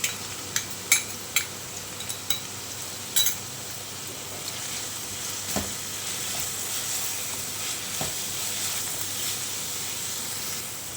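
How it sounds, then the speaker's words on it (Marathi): Tiny dried shrimps sauté with masala in a pan, giving a steady close sizzle and hiss with a few sharp scraping stirs early on, no voices. "हिंग घालते छान परतून घेऊया"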